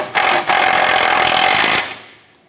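A power tool snugs down a tie rod nut on a 2008-2012 Honda Accord during front tie rod replacement, giving a loud, close impact-style burst that briefly stutters, then runs steadily for about a second and a half before stopping.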